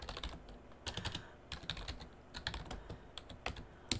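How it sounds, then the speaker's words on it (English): Close keystrokes clatter on a computer keyboard in quick irregular bursts with brief pauses, soft clicks mixed with sharper taps. "Alright, I'm typing it in,"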